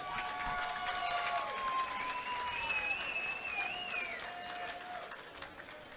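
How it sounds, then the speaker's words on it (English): A crowd at a cage fighting event applauds and cheers for both fighters, loud sustained clapping under shouting, with whistles and tonal voices rising through the middle. "big round of applause for both fighters"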